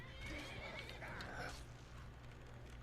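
A horse in Skyrim gives a clear whinny, rising then fading, with a faint clip-clop of hooves, quiet and close.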